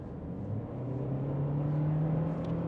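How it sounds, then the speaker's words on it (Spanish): Toyota C-HR 200H hybrid's petrol engine held at high, steady revs under full acceleration through its CVT, a sustained droning hum that rises slightly and then holds, heard alone. "elevando el régimen de giro del motor térmico de manera estable a lo más alto."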